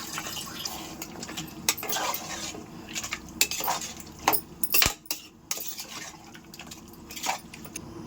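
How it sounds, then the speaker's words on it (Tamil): Water splashes and trickles into a metal pot amid clinks of utensils and cookware, close by, with no talking. "இப்போ கொஞ்சம் தண்ணி ஊற்றிக்கலாம்."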